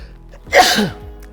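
A single sharp sneeze bursts out mid-clip, loud and close, with a brief breathy tail fading into quiet.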